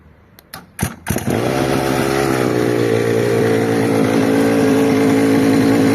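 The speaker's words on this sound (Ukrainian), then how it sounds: "Ось ще раз спробую завести." A few sputtering pulls and cranks, then a children's 50cc quad bike engine catches and settles into a steady, loud buzzing idle close by.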